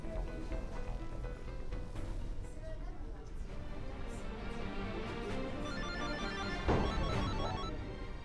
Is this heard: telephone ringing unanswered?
yes